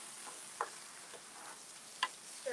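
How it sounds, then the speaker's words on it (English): Faint, steady sizzling of an eggplant pan as canned tomatoes with their juice go in, a soft hiss broken by a few small ticks and clicks. "you're adding the tomatoes in with the juice and all"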